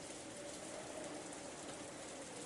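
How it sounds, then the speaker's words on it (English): Rain falling in the Umineko visual novel, a steady faint hiss of continuous downpour with no other sounds. "All that could be heard was the sound of the rain, which had kept falling since last night"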